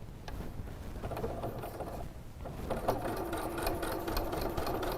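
A sewing machine stitches woven windowpane fabric, a close, continuous mechanical whirring with faint clicking and no talk.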